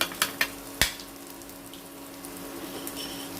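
Whole cumin seeds drop into hot oil in a pan, with a few sharp taps at the start and then a quiet, steady sizzle, close by.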